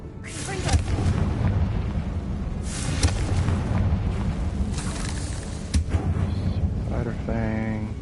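A Confringo fire-spell blast in Hogwarts Legacy: booming explosive hits over constant rumbling game noise, with several impacts spread across the stretch and a voice talking in the background.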